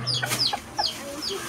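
Farm chickens cluck and chirp close by in quick, high calls, busy and restless as they are fed and watered.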